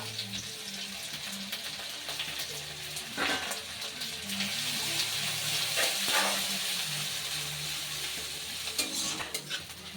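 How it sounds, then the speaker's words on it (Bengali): Green chilli and grated ginger fry in a pan of oil for a Bengali papaya ghonto, giving a steady, close sizzle with occasional scrapes of stirring and no talk. "আদা দেওয়ার পর কিন্তু বেশিক্ষণ ভাজা যাবে না, তাহলে কিন্তু তেতো হয়ে যাবে।"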